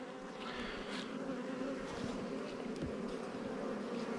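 Honey bees buzz steadily around open hive frames holding brood during a hive split, a dense, continuous drone close by with no talking.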